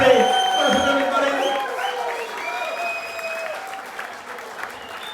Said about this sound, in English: a round of applause for everyone who's got here this far